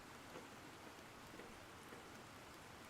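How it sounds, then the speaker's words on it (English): Steady, dense rain falls outside in The Planet Crafter's ice biome, a continuous even hiss of drops on surfaces with no voices over it. "it's obviously raining outside because I can hear it"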